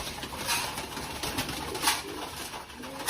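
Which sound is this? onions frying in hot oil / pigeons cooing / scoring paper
pigeons cooing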